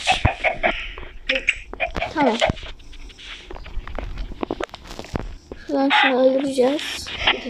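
Minecraft chicken clucking in short bursts, mixed with footsteps, clicks and other animal sounds, with a voice talking over parts of it.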